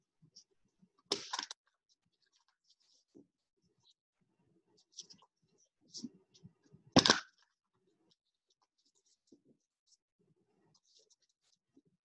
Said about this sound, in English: So let's get to shuffling.